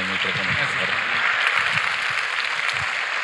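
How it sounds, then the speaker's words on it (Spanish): Audience at a Catholic festival event in Puebla applauding a speaker, continuous broad clapping with voices mixed in. "Y más fuerte es ese aplauso para Roberto Farrin"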